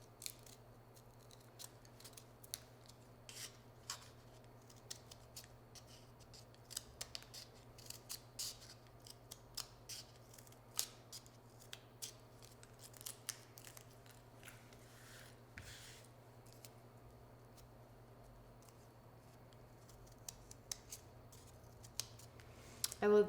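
Scissors snipping paper into small shapes along the edge, a steady run of close, crisp cuts and crunchy snips with no talking, over a faint low hum.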